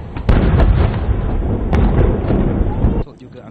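A ceremonial 77-round cannon salute fired by an artillery battery at a royal funeral in Johor, Malaysia, heard as a loud, dense booming roar with a couple of sharp cracks, cutting off abruptly near the end.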